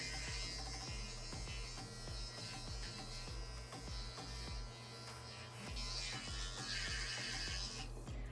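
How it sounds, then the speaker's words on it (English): An electric hair trimmer shaves a head over a bathroom sink, giving a steady, close, continuous buzz that shifts slightly in pitch as it moves across the scalp. "I'm just gonna use my trimmer and just shave it off in the sink as best as you can."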